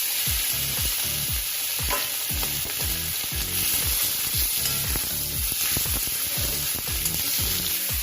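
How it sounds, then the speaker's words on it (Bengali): Chicken frying in a pan for a chicken salad, with a constant bright sizzle beneath rhythmic, repeated scraping strokes of a spatula, close and steady, with no one talking. "এটা কি ফ্রাই হচ্ছে, চিকেন ফ্রাই?"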